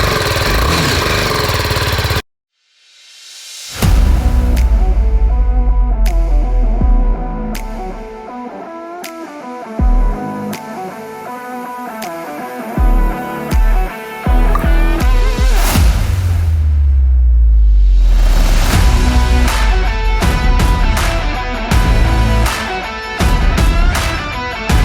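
A new motorbike's engine runs loud and close, cutting out briefly before starting again, then idling with sharp blips and rising revs as the bike is ridden, with a deep steady rumble throughout and no voices.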